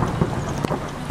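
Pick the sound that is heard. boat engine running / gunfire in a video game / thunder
thunder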